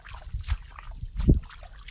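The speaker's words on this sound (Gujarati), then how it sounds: "જળબંબાકાર જોઈ લો, પાણી જ જાય. કેટલું પાણી હાલે" Floodwater runs across a rain-soaked farm field, producing a soft, uneven trickling and gurgling with a brief louder slosh near the end. No voices are present.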